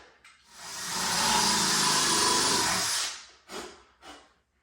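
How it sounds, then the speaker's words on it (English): A power drill spins a 3/8 inch paddle bit into wood while a newel post and handrail are installed, a single loud three-second whirring bore rising and falling, followed by two brief quieter bursts. "get your 3/8 inch paddle bit, spade bit, whatever you want to call it"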